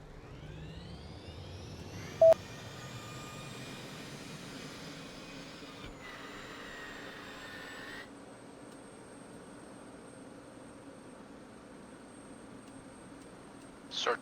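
A jet engine spooling up in a flight-simulation game, a thin whine climbing steadily in pitch and holding high, with a low rumble beneath, a brief click early on and a short burst at the end.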